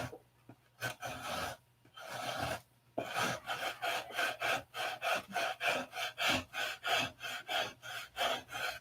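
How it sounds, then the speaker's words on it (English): Sandpaper rasps across the grain of a carved wooden model nose in rapid rhythmic back-and-forth strokes, close and loud, starting with a few separated passes and then settling into a steady sawing cadence. "You notice I do a lot of cross grain sanding when I'm doing these noses."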